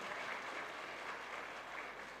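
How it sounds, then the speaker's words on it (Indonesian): An audience applauds together after being invited to clap for themselves at a Buddhist dharma talk, a steady, fairly quiet wash of many hands that holds evenly throughout. "Silakan tepuk tangan untuk diri Anda"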